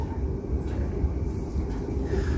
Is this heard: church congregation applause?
no